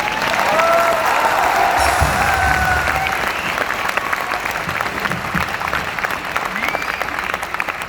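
A crowd claps steadily throughout, a sustained wash of hands with a voice and some tonal sound riding over the first few seconds before the clapping carries on alone.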